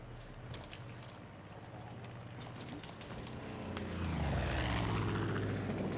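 A propeller airplane in Far Cry 5 drones past overhead, its engine swelling louder toward the end over steady background game noise, with no talk.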